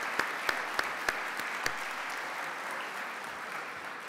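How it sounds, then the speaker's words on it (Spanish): Audience applause at a conference session thanking Sebastián Olivero and Gabriel Odone, a steady wash of many hands clapping with a few sharper individual claps near the start, moderately loud and continuing alone without talk. "Le damos las gracias con un aplauso a Sebastián Olivero y Gabriel Odone."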